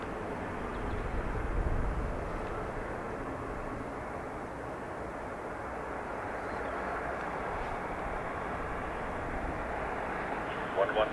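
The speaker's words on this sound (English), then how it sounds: "SAS to Copenhagen on taxi now as well." An SAS airliner taxies at Dublin Airport, heard as a steady, faint, distant jet engine roar and broadband rumble with no voices.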